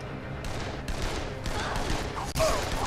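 Sustained rapid gunfire fills a Dead Island video game fight, dense volleys rolling on for about three seconds with brief lulls and a sharp break near the end.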